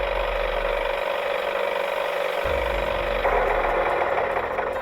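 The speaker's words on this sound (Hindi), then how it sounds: "रोशन वहां से अपने ट्रैक्टर पर गुजर रहा था।" A cartoon tractor's engine runs with a steady idling rumble and mechanical knocking and rattle, close and continuous, its tone shifting partway through.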